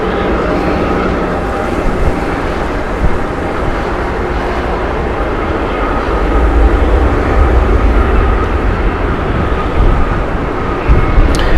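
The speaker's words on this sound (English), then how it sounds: "Inverness flight shuttle service here from British Airways, Airbus A320 Neo." British Airways Airbus A320neo on the Inverness shuttle at Heathrow, a steady broadband jet engine roar that holds throughout and swells slightly louder in the second half, with no voices.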